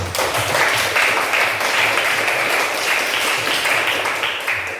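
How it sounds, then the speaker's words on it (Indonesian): Students in an Islamic education classroom applaud a presenting group, a dense, even burst of nearby clapping lasting nearly five seconds without talk. "Tepuk tangan buat kelompok 1."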